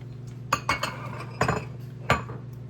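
A utensil clinks and scrapes against a pan in four or five distinct strokes while seasoning is mixed into flour for a ground beef gravy, with a low steady hum underneath.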